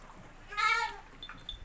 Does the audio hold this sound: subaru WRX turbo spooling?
no